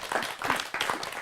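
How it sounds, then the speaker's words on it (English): An audience at a songwriters' season-finale showcase claps for the judges, a short burst of moderately dense applause with a few distinct hand strikes, close and fairly loud. "One more round of applause for the judges."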